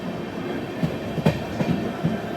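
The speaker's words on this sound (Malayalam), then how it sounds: "ഇവിടെ മറ്റൊരു ട്രെയിനിൽ കൂടെ കാണാം." Another train passes close by near Hosur station with a steady rumbling roar and a few faint clickety-clack wheel knocks, heard from aboard an intercity express.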